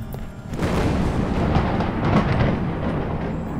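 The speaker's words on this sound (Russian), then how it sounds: "Молния бьет прям близко." In the video game Bad Dream Coma, a nearby lightning strike sets off a loud, rolling thunder boom that swells quickly and rumbles on steadily, close and heavy, with no talking.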